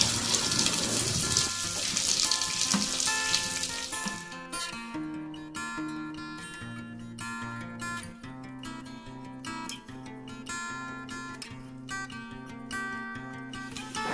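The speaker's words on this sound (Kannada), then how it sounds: "ಆನಿಯನ್ನು ಬ್ರೌನಿಷ್ ಬರೋವರೆಗೂ ಫ್ರೈ ಮಾಡ್ಕೊಳ್ಬೇಕು." Onions frying in a pan for a methya bath hiss with a loud broadband sizzle for the first few seconds, then give way to music that continues to the end.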